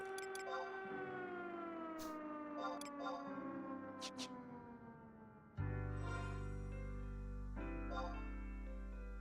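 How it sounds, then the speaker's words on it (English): A long, wailing siren in Final Fantasy XI with slowly falling pitch, joined partway through by a deeper, louder droning tone, eerie and sustained throughout. "Spooky siren."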